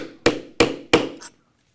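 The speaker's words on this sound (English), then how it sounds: "attach this by putting the rivet cap in place, and then we'll set it with the rivet setter" A rivet setter struck three times with a hammer to set a rivet cap on a leather handlebar bag strap, three sharp, evenly spaced close knocks followed by a lighter fourth tap.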